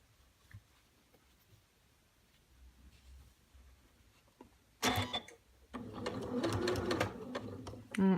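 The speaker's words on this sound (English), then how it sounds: "put our presser foot back down. Sew a few more stitches." A domestic sewing machine stitching curved quilt fabric for Drunkard's Path blocks, first a short whirring run, then a longer steady stitching burst with a mechanical ticking rhythm, close and fairly loud after a quiet stretch.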